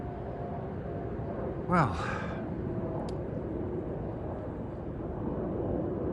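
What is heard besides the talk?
airplane flying overhead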